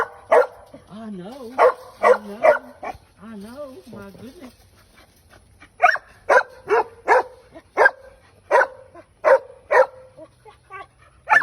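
A small puppy barks in a rapid string of sharp, high yips, then after a pause a steady run of about eight evenly spaced barks, with people talking nearby in between.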